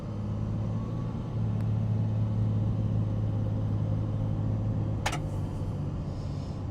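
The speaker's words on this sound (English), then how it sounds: "these turbo diesels are pretty powerful. It's pretty smooth power too." Turbo diesel pickup truck with heavy-duty suspension driving and pulling away, a smooth, steady low rumble heard from inside the cab, with a brief clunk near the end.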